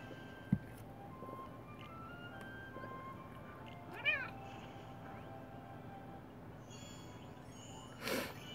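A house cat gives a few faint meows, with one rising call midway and another near the end, over quiet room background.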